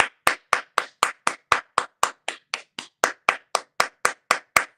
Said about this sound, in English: I had to clap for me right there, right there.